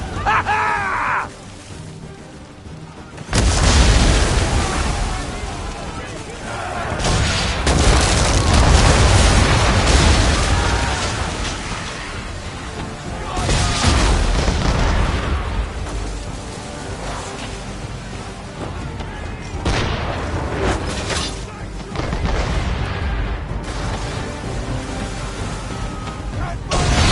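Heavy booming cannon fire from an English frigate in Assassin's Creed 3, a series of deep blasts and rumbling impacts rolling over roughly half a minute, loud and close, with a sustained low roar between shots.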